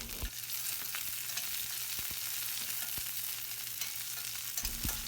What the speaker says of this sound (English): Fry small onions and garlic for minimum 2 minutes